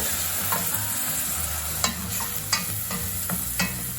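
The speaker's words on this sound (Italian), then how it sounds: "Ora andiamo di vino bianco, una leggera sfumata, sentite? Girate il vostro riso." Risotto rice sizzles steadily in the pan as white wine is added, with a constant hiss and a few scraping knocks from stirring, no voices.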